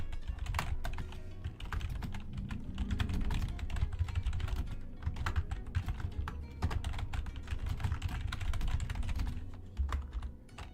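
Typing on a computer keyboard goes on continuously as quick, uneven bursts of close key clicks with short pauses, and nobody talks.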